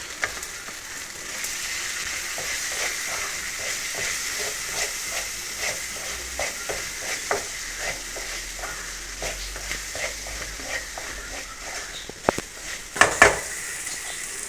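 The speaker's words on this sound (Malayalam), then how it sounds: "നല്ലോണം വാടി വരുന്നവരെ ഇളക്കുക." Prawn masala frying and being stirred in a pan: a steady hiss and sizzle with repeated soft scraping strokes, then a brief louder clatter near the end, all close and with no speech.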